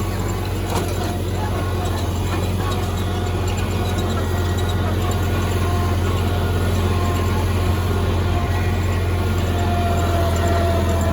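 The engine of a 1971 Cub Cadet garden tractor runs at a steady pace, giving a loud, continuous low drone that holds unchanged for the whole stretch.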